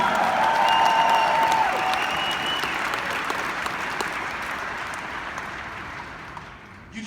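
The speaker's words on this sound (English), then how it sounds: "Give me a clap and a shout." Church or motivational-talk audience clapping and shouting together, a loud sustained burst of applause with raised voices that gradually thins and fades over several seconds.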